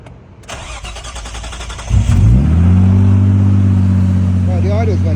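A Nissan R33 Skyline with an idle problem cranks over cold with a rapid starter whir, catches, and settles into a loud, steady, high idle right up close; a voice speaks briefly near the start.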